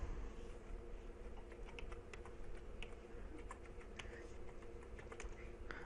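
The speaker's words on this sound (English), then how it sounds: "I was just typing it wrong over and over again." Fingers tap out a password on a computer keyboard in short, uneven bursts of quiet clicks, close and soft against a low steady room hum, with no talk.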